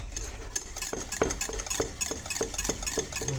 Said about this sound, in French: Voilà, on mélange.